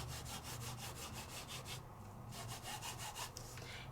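An ink applicator rubs back and forth over embossed paper in a quick, even rhythm of soft scratchy strokes, close and fairly faint, with a brief pause partway through.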